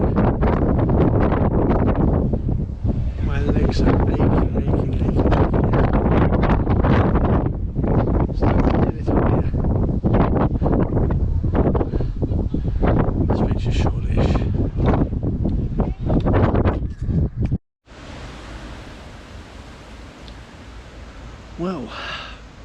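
Strong gusty wind buffets the microphone on an exposed hilltop on Box Hill along the North Downs Way, a loud continuous rumble and roar with surging gusts, dropping suddenly to a quieter hiss near the end.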